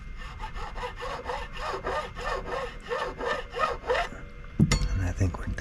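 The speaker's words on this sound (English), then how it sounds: "So I've got all my nut slots cut right about where I want them to be" Repeated back-and-forth rasping of a small file cutting guitar nut slots, about ten even strokes at close range, ending with a brief handling clatter.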